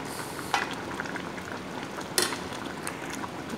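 Tilapia simmering in coconut milk in a pan, a steady bubbling sizzle with a couple of sharp utensil clinks, close and even, with no talking.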